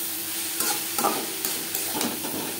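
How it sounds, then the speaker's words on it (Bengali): Yardlong beans are stir-fried with grated coconut and turmeric in a pan, a soft steady sizzle with a few brief spatula scrapes close by, with no speech. "2-3 মিনিট নাড়াচাড়া করে নেব।"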